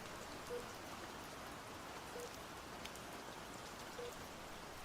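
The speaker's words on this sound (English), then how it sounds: "this rain doesn't seem to be letting up at all, huh?" Steady rain pours down continuously, a dense, even hiss of drops striking a surface at close range, with faint higher taps scattered through it and no voices.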